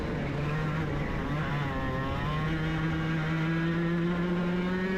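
Racing karts at an NTK club race drone around a track with steady, loud engine whine, pitch rising and shifting as several karts pass close by, continuous with no talk.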